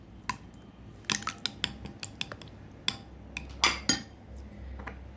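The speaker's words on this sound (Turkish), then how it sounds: "Sosumu bu şekilde karıştırarak hazırlıyorum." A spoon stirs a tomato sauce of grated tomatoes, tomato paste and thyme in a bowl, making a quick run of close, crisp clinks and taps against the dish, with soft wet scraping between them and no talking.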